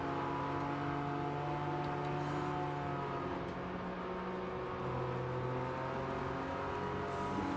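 A Suzuki Jimny engine drones in the Gran Turismo 7 Jimny Cup race on snow, a steady mid-volume hum with slowly rising and falling pitch as the car accelerates along the track.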